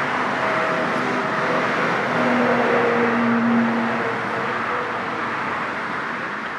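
Steady road traffic with cars driving past continuously, a broad even rumble at moderate level throughout, beside a garden bed of radishes where cabbage white caterpillars feed.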